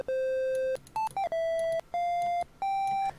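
A basic synthesizer tone from a SunVox generator sounds as a series of clean, steady electronic beeps at several different pitches, held notes separated by short gaps, loud and alone.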